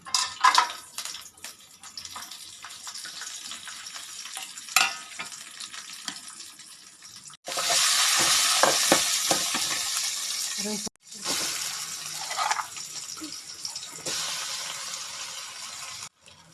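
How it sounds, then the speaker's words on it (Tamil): Cumin, pepper, cashews, green chili, ginger and curry leaves are tipped into hot oil for a millet pongal tempering, giving a loud, close, steady sizzle that flares up suddenly partway through and stays bright, with a brief break. "அது ஜீரகம் மிளகு முந்திரி பச்சை மிளகா இஞ்சி கருவேப்பிலாம் எடுத்து வச்சுருக்கோம் அதெல்லாம் கொட்டிக்கலாங்க"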